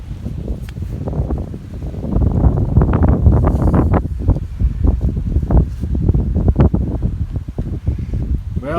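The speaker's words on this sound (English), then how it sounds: "it's getting a little windy" Strong wind buffets the microphone in loud, continuous low rumbling gusts, with rustling and brief knocks mixed in.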